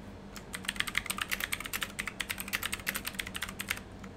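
Rapid computer keyboard typing during a Minecraft livestream, with dense, irregular key clicks running throughout at close range and no voices over them.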